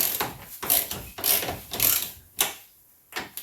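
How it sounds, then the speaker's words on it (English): Ratchet tool loosening the stabilizer bolts on a Seat Exeo / Audi A4 front suspension, a few bursts of rapid clicking separated by short pauses, close and fairly loud with no talk. "We need to loosen these bolts a little bit,"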